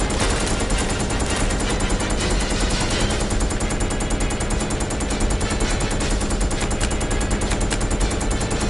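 A turret fires nonstop in Resident Evil Code: Veronica X, a loud, dense, continuous stream of rapid gunshots that fills the whole stretch with no pauses.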